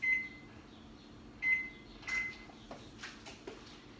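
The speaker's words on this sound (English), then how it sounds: "turn on the oven to 400 degrees" A kitchen oven being switched on and set to 400 degrees gives a few faint, spaced electronic beeps and soft clicks in a quiet room.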